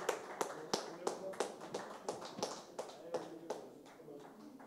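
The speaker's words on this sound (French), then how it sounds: "On peut également les applaudir." A small audience applauds teams at an insurance-sector presentation event, a moderate patter of claps with distinct individual hits that slowly thins out, heard at a middling distance with faint voices underneath.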